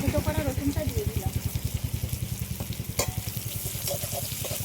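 Boiled garlic added to lentils frying in a pan, giving a loud, steady sizzle with rapid rhythmic pulsing throughout, close up and with no one talking.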